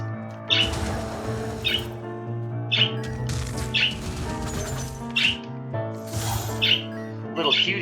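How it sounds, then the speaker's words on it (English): Birds in the video game Wizard of Legend give repeated bright chirps and squawks in short bursts over a looping tonal game soundtrack, close and fairly loud throughout. "Little cutie birds have been very friendly today, so we'll just have to kind of let them have their time to chirp away."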